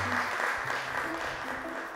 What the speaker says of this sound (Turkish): Aradığımız cevapta alkışlıyoruz sarı masayı.